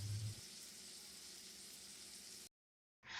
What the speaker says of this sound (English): I'm going to cook the sausage until it's done.